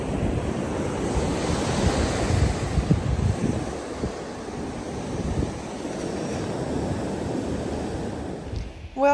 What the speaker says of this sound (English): Today it is still cold, even though it's not storming, as you can see by the water being churned up